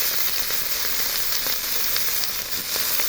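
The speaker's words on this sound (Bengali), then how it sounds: "এই যে বেগুনগুলো এখন ভেজে নিচ্ছে।" Pieces of eggplant (brinjal) fry in hot oil in a wok, giving a steady, loud, close hiss with scattered sharp pops and spatters throughout.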